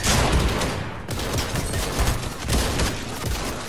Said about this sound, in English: Hey, stop shooting me.